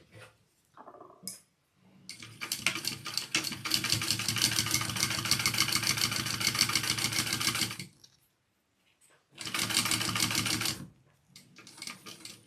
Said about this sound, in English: Okay, I'm going to sew along that now.